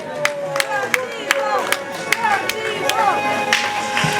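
Wedding guests clap in a steady, rhythmic beat at a Bulgarian wedding, sharp even claps roughly three per second, with voices and chatter mixed in around them.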